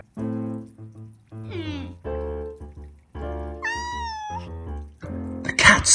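A cat meows repeatedly in a near, steady series of short and drawn-out mews, one rising to a high plaintive cry, ending with a brief noisy burst.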